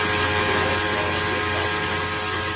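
A vacuum cleaner runs in the background as a steady, unbroken droning hum with a broad hiss, constant in level throughout and with no talk over it.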